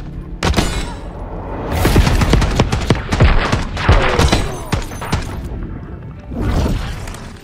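Gunfire in a video game shooter: loud, close bursts of rapid shots and booming blasts arrive in several clusters with short gaps between them.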